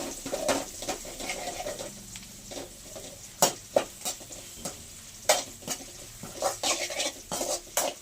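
Puffed rice snack ingredients with garlic and fresh curry leaves fry in a pan, giving a steady close sizzle broken by sharp clinks and scrapes of a stirring spoon.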